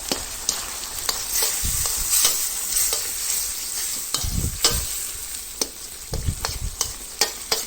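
Vegetables stir-fried with canned fish in a hot pan, a loud close crackling sizzle broken by repeated scraping stirs and a few sharp utensil knocks, with no talking.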